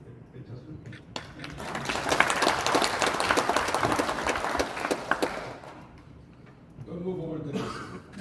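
Applause in the Gyeongsangbuk-do provincial council chamber during a plenary session, swelling quickly into dense clapping that lasts several seconds before dying away, followed by someone speaking.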